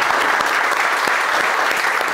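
Studio audience applause with whistling at an office event, a dense steady burst of clapping filling the whole moment, close and loud.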